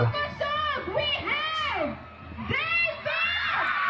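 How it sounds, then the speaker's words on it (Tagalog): Crowd of fans screaming and cheering loudly for David, with rising and falling shrieks and whoops filling the clip, voices overlapping throughout. "Enjoy ako pag yung mga hiyawan kay David, ganyang kalakas."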